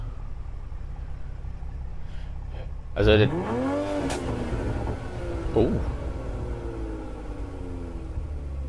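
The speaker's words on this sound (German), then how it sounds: "Oh, Motorsound." A Toyota Supra engine in the Gran Turismo Sport racing game revs sharply once, rising and falling, then a second shorter rev follows over a steady idle rumble, with someone talking over it.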